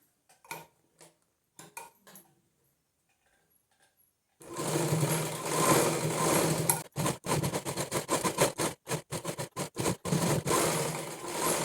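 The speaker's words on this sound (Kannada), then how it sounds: "ಈಗ ಇಲ್ಲಿ ಸುತ್ತಲೂ ಒಂದು ಪ್ರೆಸ್ ಸ್ಟಿಚ್ ಹಾಕ್ಕೊಂಡು ಬರೋಣ" A sewing machine stitches around an envelope purse, with a few faint clicks first, then close loud runs of rapid mechanical whirring broken by short pauses, and no talk.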